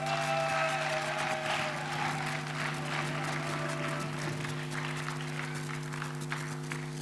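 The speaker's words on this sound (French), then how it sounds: "Je vous demande d'applaudir pour cela." A crowd claps steadily for several seconds, the applause even and sustained over a low constant hum.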